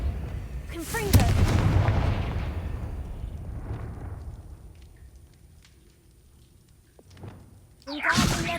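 A Confringo fire spell blasts in Hogwarts Legacy, a heavy booming burst near the start that rumbles and fades over several seconds, with a few softer thuds after and another sharp blast at the end.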